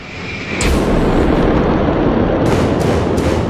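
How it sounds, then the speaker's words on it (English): An ammonium nitrate fertilizer plant explosion: a sudden powerful blast bursts in after a brief quiet moment, then a sustained loud roar and rumble follows, with further sharp cracks near the end. "Fertilizer bomb."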